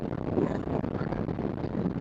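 Strong wind buffets the microphone outdoors among hills, a low rumbling, fluttering roar that stays loud and continuous with no talk.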